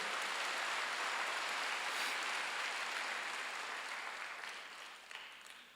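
Congregation applauding during a Sunday church worship service, a steady wash of many hands clapping that holds loud and even, then slowly thins and fades toward the end.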